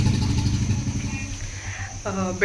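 A vehicle passes outside with a low, steady engine drone that fills the moment, and a voice cuts in briefly near the end.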